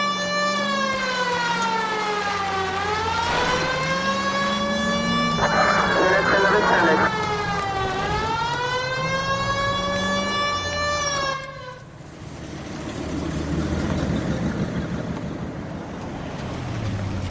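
Police car siren in the video game L.A. Noire: a loud wailing siren rising and falling in long sweeps for about eleven seconds, then cutting off to leave low engine and road noise.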